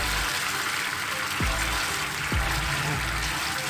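Liquid poured little by little into a pan while cooking a thickening sauce, giving a continuous soft watery wash heard close up for the whole clip.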